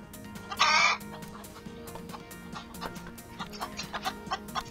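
Chickens clucking inside a coop at a Woodinville home while a bobcat stalks them, giving a loud burst of squawking early on, then scattered soft clucks and shuffles close by.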